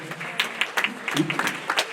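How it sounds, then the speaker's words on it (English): An audience applauds a pianist as he comes to the stage, with scattered, uneven handclaps in loose bursts over a murmuring room. "Can we all just rise and give this man a hearty claps as he comes to the stage?"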